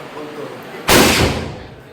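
A single loud firecracker blast cracks out suddenly during village Diwali celebrations, then its rumble slowly fades away; close by, with faint voices beforehand.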